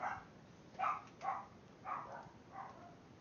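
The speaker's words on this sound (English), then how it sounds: "I obviously have dogs and seem to be going off right now." Several dogs bark in a loose series of five or six short, fairly faint barks at a distance, with quiet background between them and no talking.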